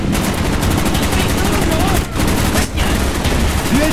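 Dense, continuous gunfire from the video game Black Ops, rapid automatic bursts filling the scene at a loud, steady level, with a voice briefly calling out.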